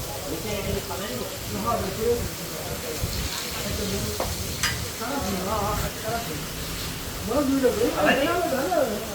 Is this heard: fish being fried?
yes